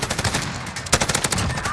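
Rapid bursts of automatic fire from the Bruen MK9 light machine gun in Modern Warfare, loud and close, with shots cracking in quick succession and a brief pause before another volley.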